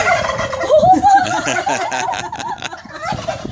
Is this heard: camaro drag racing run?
no